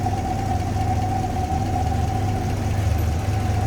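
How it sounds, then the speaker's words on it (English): The original V8 engine of a 1954 Chrysler New Yorker idles smoothly and steadily, with a low, even hum and no other sounds. "Smooth running V8 underneath there."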